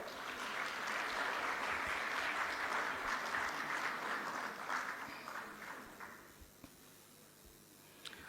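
Applause for a bank delegation at a state dividend-handing ceremony for public corporations, a dense steady clapping from a large audience that fades out over the final seconds.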